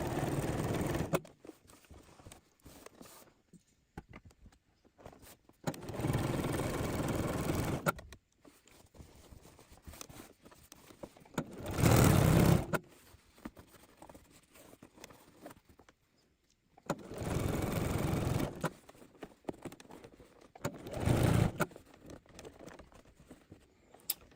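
A sewing machine understitching a coat, running in several separate bursts of fast, steady needle chatter with quieter pauses between them, close and fairly soft.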